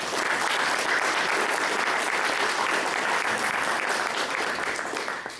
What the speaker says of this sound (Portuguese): Então, vamos, uma salva de palmas, Ricardo, por favor.